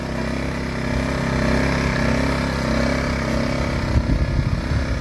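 A petrol pure sine wave generator runs at its lowest revs beside a van on a rainy day, giving a steady, fairly quiet engine hum that holds even throughout with no talking.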